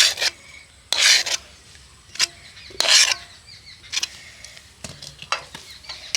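Hot mango pulp mixture for instant aamsatta is scraped out of a wok onto a plate, giving repeated short rasping scrapes in bursts with quiet gaps, close and fairly loud.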